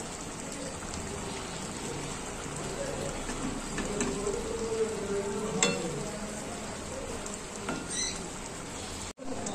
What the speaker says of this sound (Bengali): এবার জাস্ট ভেজে রাখা চিংড়ি মাছটা আমি দিয়ে দিচ্ছি, আর জাস্ট নাড়িয়ে চাড়িয়ে আমি